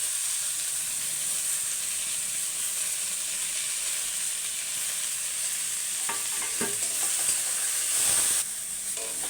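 Continuous hissing sizzle of potatoes and yardlong beans frying in oil, with scraping stirs and a louder burst of crackling near the end.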